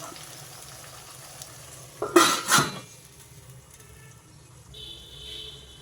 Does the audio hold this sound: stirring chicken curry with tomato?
yes